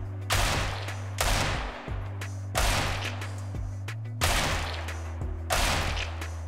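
Four loud gunshot bursts in an aim-training session, each shot aimed at a bot target, evenly spaced roughly every second and a half over a steady low hum.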